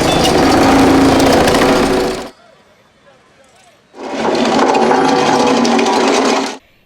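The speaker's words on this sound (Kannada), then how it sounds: "ಬೈಕ್ಗೆ ಮಾಡಿಫೈಡ್ ಸೈಲೆನ್ಸರ್ ಅಳವಡಿಸಿಕೊಂಡು ಕರ್ಕಶ ಶಬ್ದ ಮಾಡಿಕೊಂಡು" Motorcycle fitted with a modified silencer, blasting loud, harsh exhaust noise in two long, sustained bursts separated by a brief quieter pause, close and dominating.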